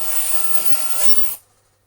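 A Tineco ModaOne smart hairdryer blows air in a broad, steady close-up hiss, then cuts off abruptly and leaves near silence.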